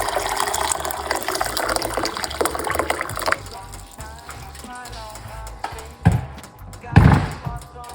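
Hot water pours steadily into a cup with a splashy, filling rush, then a couple of louder clunks and splashes near the end.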